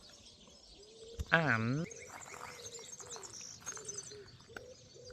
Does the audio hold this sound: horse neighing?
no